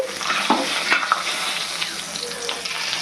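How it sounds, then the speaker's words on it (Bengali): A bay leaf and whole garam masala crackle in hot oil over high flame, a steady close sizzle with a few sharp pops and light scraping, no voices. "এবার এই তেলের মধ্যে আমি একটা তেজপাতা দিচ্ছি, গোটা গরম মশলা দিচ্ছি"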